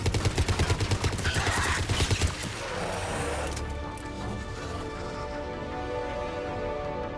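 Gunfire in the sci-fi shooter Mass Effect 3, a rapid burst of loud automatic shots in a steady rhythm, then fading into a rumbling, ringing tail of echoes.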